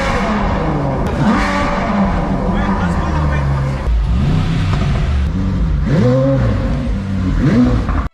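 A car engine revs up and down several times, rising and falling in pitch, loud and close, with a voice talking over it.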